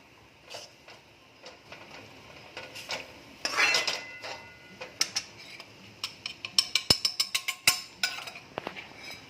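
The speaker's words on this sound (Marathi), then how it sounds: "हे डाळीचं पीठ घातल्यावर अशी मिरची एक मिक्स करून घ्यायची आहे" Bell pepper being stirred into gram flour in a pan, heard as a run of sharp metallic scrapes and clinks from a spoon against the pan, close and fairly loud, with a denser scraping burst partway through.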